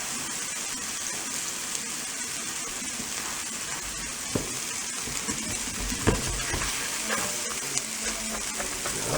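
Burger patties sizzle and fry in a pan, a loud, dense crackle running throughout, with a few sharper pops and scrapes of a spatula pressing them flat.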